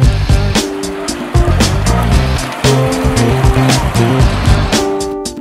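A 1960 Pontiac Catalina accelerates hard, the big engine loud and close as it climbs through the gears with short breaks at each shift.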